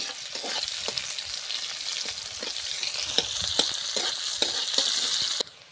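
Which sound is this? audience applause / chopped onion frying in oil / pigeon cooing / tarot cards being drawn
chopped onion frying in oil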